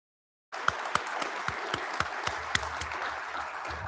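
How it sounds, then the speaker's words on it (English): After a half-second of silence, an audience at a 2026 Cankdeska Cikana Community College graduation ceremony breaks into steady, full applause for the opening prayer speaker, with a few sharper claps standing out from the crowd. "I can give him a round of applause right away, I guess."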